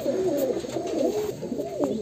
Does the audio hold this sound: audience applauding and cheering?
no